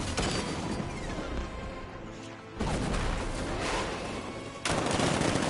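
Tank cannon fire in Batman Arkham Knight, a dense burst of heavy blasts and gunfire that drops briefly before two loud new volleys kick in, with no talk.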